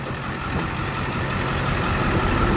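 A Ford E550 refrigerated truck's 7.3 diesel engine idles steadily, a dense low rumble heard up close and fairly loud. It runs continuously with no knocks and no talking.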